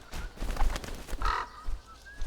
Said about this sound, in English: Blasted crows. Haven't you caused enough trouble?